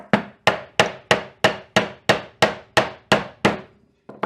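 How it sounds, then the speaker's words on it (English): Small pieces tapped into a wooden guitar tailpiece with a hammer: about eleven sharp, evenly spaced knocks at close range, each with a short ringing decay, followed by a brief pause and one more tap. "slot to the back, and I just tap these in like so"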